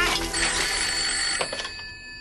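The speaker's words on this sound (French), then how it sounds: "Ah, le téléphone." A telephone bell rings loudly and steadily from close by, a sustained electric ringing that fills the short moment before it tapers off, with no voices over it.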